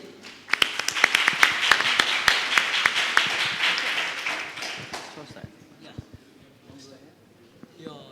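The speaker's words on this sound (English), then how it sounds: "Let's give a round of applause for our panelists." Audience applause for a panel of four at a live forum, a dense burst of many clapping hands that swells near the start, holds for several seconds, then thins out and fades toward the end.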